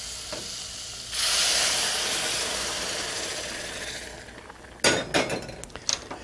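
A rushing hiss as boiling water is poured into a hot pot of rice with peas, tapering off, followed by a few clinks of a utensil against the pan.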